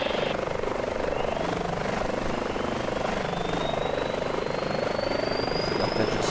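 An Airbus H145 helicopter engine spools up in Microsoft Flight Simulator 2020, a loud steady turbine whine that rises gradually over a constant rotor drone.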